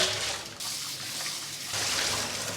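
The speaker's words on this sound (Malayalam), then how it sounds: "അതിനുശേഷം വെള്ളം ഒഴിച്ച് നന്നായിട്ട് മീനിനെ കഴുകിയെടുക്കും." Water is poured while pieces of stingray fish are washed, giving a continuous, fairly quiet splashing rush that swells slightly toward the end.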